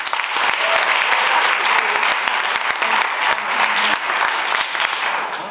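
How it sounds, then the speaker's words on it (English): Warm, sustained applause from an audience at a Women's History program event in Stockbridge, a full even wash of clapping with a few sharper individual claps, holding steady before easing slightly at the end. "Let's give Ms. Funny another round of applause"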